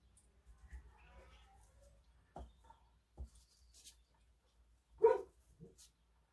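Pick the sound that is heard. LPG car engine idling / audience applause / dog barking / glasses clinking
dog barking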